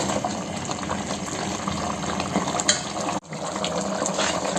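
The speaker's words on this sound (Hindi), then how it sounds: "और अब हम इसमें शामिल करेंगे वो चूरा की हुई प्याज।" Crushed onions drop into a pot of boiling chicken korma, giving a steady bubbling, sizzling wash with stirring. A brief sharp dip breaks the sound partway through, and no one speaks.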